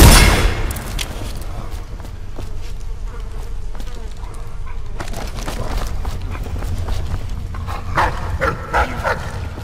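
Dogs in the video game Dishonored, including a demented bulldog, bark and growl in a dense, continuous game soundscape with sharp bursts near the end, loud and close.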